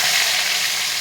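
Pieces of fish frying in plenty of hot oil, a steady loud broadband sizzle that fills the whole moment without pause or voices.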